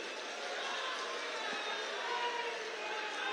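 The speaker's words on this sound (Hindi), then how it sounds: "तो फिर से एक बार ताली बजाकर सभी का जोर से सम्मान करिए" A large crowd applauds steadily at a political public rally in Nalanda, Bihar, a dense, continuous wash of clapping that holds at an even level throughout without any audible talk.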